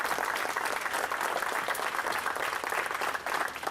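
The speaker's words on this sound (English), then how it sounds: "Let's give them a round of applause." A crowd at a rally applauds veterans with continuous, dense clapping that holds at an even level throughout, heard at some distance without speech over it.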